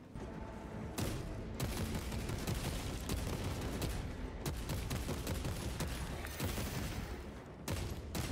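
Sustained heavy bolter rifle fire from Warhammer Space Marine 2, a dense, loud fusillade of rapid shots with thumping impacts running almost nonstop, broken only by brief gaps.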